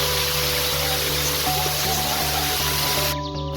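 Paloorkotta waterfall pouring in a steady broadband rush, loud and continuous, with faint tonal background sounds.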